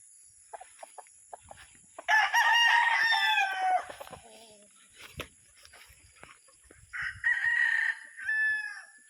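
Roosters crow loudly on a small backyard poultry farm in the Philippines, a long harmonic cock-a-doodle-doo near the start followed by scattered clucks and a few shorter crows from other birds nearby.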